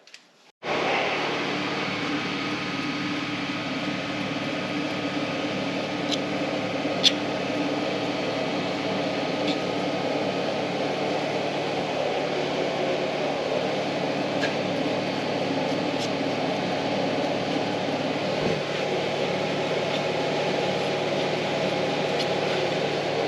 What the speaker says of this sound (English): So we cleaned the hub face with the die grinder, polished that all down.